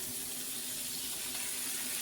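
Starchy potato cooking water pours in a steady, hissing stream into a pan of beef liver and onions, with a faint sizzle underneath.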